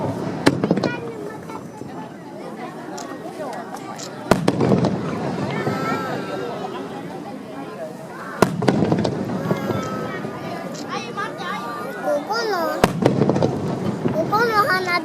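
Fireworks burst over the sea at the Tomari summer festival in Yurihama, with several loud booming explosions spaced a few seconds apart amid crackling and crowd noise. People chat between the blasts.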